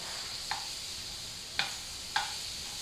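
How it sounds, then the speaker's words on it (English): Tongs toss seared asparagus with garlic in a hot pan, making three quick metallic clacks spaced across a faint, steady frying hiss. "asparagus is about done. We're going to toss it. Grab your tongs."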